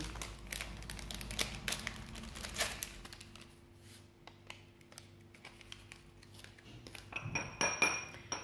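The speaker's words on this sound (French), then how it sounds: "Vous mettez dans la bol où il y a des farines déjà, vous mélangez avec du sucre et le sucre vanillé" A spoon scrapes and clinks against a bowl while stirring rice flour, sugar and vanilla sugar for Indonesian banana fritters. Irregular close taps and rattles come with quiet pauses between them.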